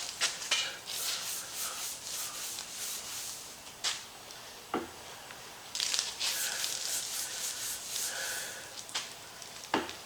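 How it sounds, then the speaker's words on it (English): Scrubbing the honed cylinder walls of a rat rod engine clean of honing oil and debris, heard as intermittent close rubbing and brushing strokes with short scraping bursts and pauses, no talking. "And we're just going to start with our cylinder walls. Start cleaning those up real well."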